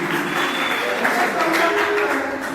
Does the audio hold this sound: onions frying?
no